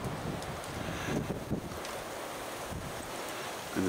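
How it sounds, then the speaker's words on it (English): Strong wind buffets the microphone in steady, roaring gusts, with a broad rush of noise throughout and no voices. "It's quite windy."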